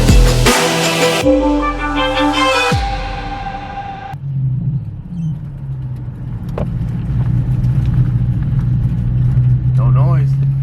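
A car on a test drive after a brake repair rumbles and hums steadily from inside the cabin, its low engine and road noise continuous, while someone talks, with loud music at the start.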